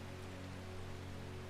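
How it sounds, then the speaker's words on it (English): Steady, dense rain from the video game Strange Horticulture falls alone in a constant, even wash of patter with no talk over it. "And rainy by sounds of it."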